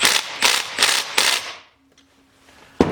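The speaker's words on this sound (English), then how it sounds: "I'm just using an impact, I'm just going to literally hold the other end of the crankshaft and just tighten her down" An impact wrench tightens the flywheel nut on a 2004-09 Honda CRF250R dirt bike, rattling in four rapid hammering bursts up close, then falling quiet before one final sharp knock.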